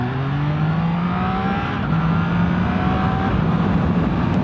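A motorcycle engine revs steadily while being ridden, a loud continuous drone with rising and falling pitch and a fairly constant level throughout, with no talking.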